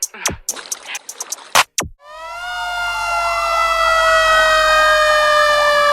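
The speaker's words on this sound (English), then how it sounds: "So I know you hear them sirens, right?" Several sharp clicks and bursts, then a loud wailing siren rises and sweeps steadily up and down, close and sustained with no talk.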